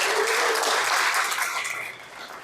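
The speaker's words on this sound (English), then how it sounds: "Let's give them another round of applause." Audience at an evening award reception applauding, a dense, steady wash of clapping that gradually fades toward the end.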